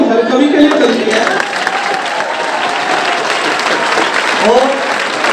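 A crowd claps steadily at a Hindi kavi sammelan poetry gathering, loud, close applause filling the room, with a few voices calling out over the clapping.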